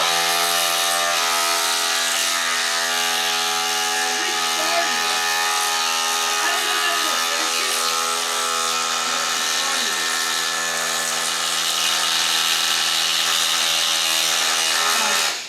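Milwaukee M18 Fuel Surge hydraulic impact driver sinking a fastener during a tool test, a loud, steady, continuous mechanical whirr lasting throughout without a break.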